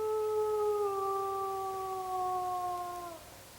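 Wolves howl together in a swamp setting, several steady, sustained tones layered in harmony. The long, clear chorus holds for about three seconds before fading out, over a soft background hiss.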